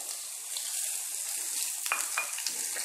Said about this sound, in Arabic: نضيف القليل من الثوم، انا قطعتها الى قطع صغيرة ممكن تسكرفجوها. نقليها ايضا شوية مع البصل